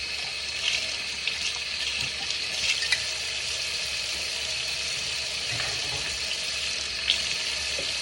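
A kitchen tap runs into a sink during dishwashing, giving a continuous splashing hiss with small clinks and bumps scattered through it. No talk is heard.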